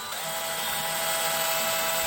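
A power drill bores out a rivet on a Klein Tools cell phone holster, a steady high whine with a faint grinding edge that runs unbroken and close for the whole moment.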